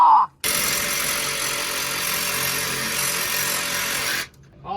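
A Sawzall reciprocating saw cuts through the axle of a Ford F150, a loud, dense, continuous buzzing rasp that runs for about four seconds and then stops abruptly.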